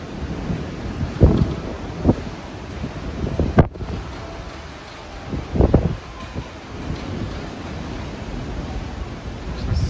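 Wind and waves at the bow of the Norwegian Bliss cruise ship on an Alaska cruise: heavy wind buffets the microphone in rumbling gusts over a constant rushing roar.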